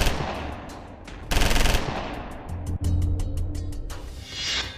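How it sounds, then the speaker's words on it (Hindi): Gunfire sound effect in a crime reconstruction of an ambush on a car in a city neighbourhood: rapid automatic bursts and single shots crackle in uneven clusters, loud and close, with a sharp cracking salvo partway through. "जब जवाहर अपनी कार से अपने घर लौट रहे थे, अचानक सिविल लाइंस इलाके में कुछ लोग उन पर ताबड़तोड़ फायरिंग शुरू कर देते हैं।"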